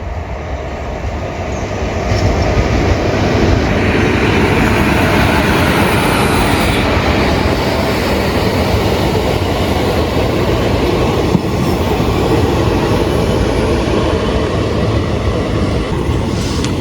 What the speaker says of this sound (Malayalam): ട്രെയിൻ വരുന്നുണ്ട്. 567-03 കണ്ണൂർ മംഗളൂരു സെൻട്രൽ പാസഞ്ചർ.